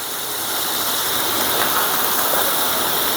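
Chopped onions and green chillies sizzle in hot oil for a prawn dish, making a steady, dense hiss that swells slightly and holds for a few seconds.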